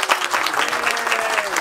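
Applause from a small gathered group welcoming Tom and Ashley, business partners, at the opening of a new store, a steady dense patter of clapping close by with faint voices mixed in.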